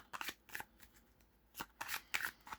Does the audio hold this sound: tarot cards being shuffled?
yes